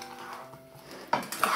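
Salted potatoes get a brief stir in a metal pan, a quiet scrape followed by a couple of sharp utensil clinks against the pan's edge, close by.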